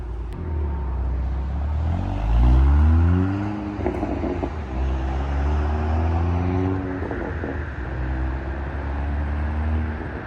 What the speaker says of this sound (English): this is going to be a mild drive off and acceleration